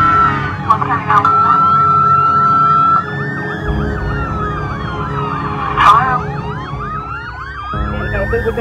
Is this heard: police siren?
yes